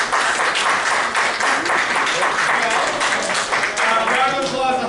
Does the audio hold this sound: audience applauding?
yes